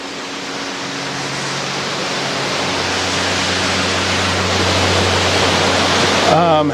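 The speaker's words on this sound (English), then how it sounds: "there's been so much rain that the power of this waterfall is like almost too much for me" A waterfall swollen by heavy rain roars close by as a steady, dense rush of water that builds slightly louder and never lets up.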